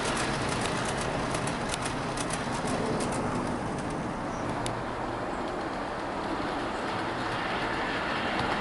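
A Bachmann model Class 31 locomotive hauls FNA nuclear flask wagons, producing a continuous close-up whirring rumble of motor and wheels on track, with faint clicks overhead and no talk.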